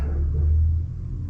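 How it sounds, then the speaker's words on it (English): A garbage truck rumbles past outside, heard indoors as a low, steady, muffled rumble without talk. "I think that's a garbage truck."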